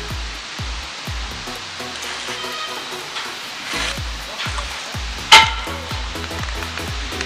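Onions are added to a hot pan and fried for commercial pizza, giving a constant loud sizzle broken by rhythmic scraping and tapping of a utensil, with one sharp metallic clang partway through.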